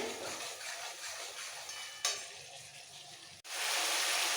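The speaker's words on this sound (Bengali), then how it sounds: "এবার ভালো করে কষাতে হবে কষাতে কষাতে পেঁয়াজটা একদম নরম হয়ে যাবে মিশে যাবে" Onions sautéing in a pan for a raw banana kofta curry give a steady, close sizzling hiss. The sound shifts abruptly twice, as if the stirring or heat changes, and no one speaks.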